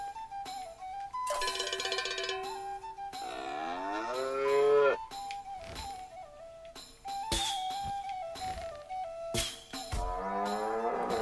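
Cartoon cattle moo repeatedly at a ranch in the South Park: The Stick of Truth video game, drawn-out lowing calls alternating with bright cowbell-like chimes and game music, loud and close with no talking.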